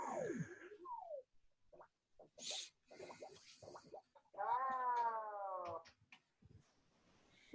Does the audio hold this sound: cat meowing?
yes